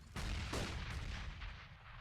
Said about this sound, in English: So many grenades being deployed by both teams